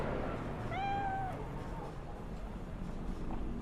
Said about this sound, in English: Just a standard homeless cat.